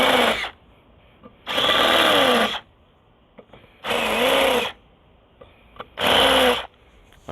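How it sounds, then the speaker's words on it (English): A power drill countersinking holes with a bit one size up on a non-penetrating roof mount, running in three or four loud bursts of about a second each with a rising then falling pitch, separated by quiet pauses. "I'm just going to take the next size up and just do a minor countersink on them"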